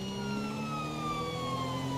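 A police car siren wails in Grand Theft Auto V, a steady rising-and-falling electronic tone heard clearly and continuously without other sounds over it.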